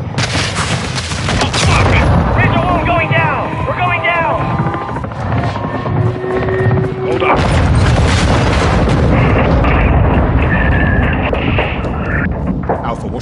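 Missile strikes and explosions in Call of Duty Modern Warfare 2, loud booms and blasts mixed with helicopter rotor noise and gunfire, with shouted voices over the continuous combat din.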